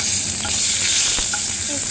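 Bay leaf dropped into hot ghee in a home kitchen, giving a steady broad sizzle with light stirring scrapes, close and fairly loud with no talk.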